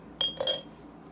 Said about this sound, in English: Plop that into a pressure canner.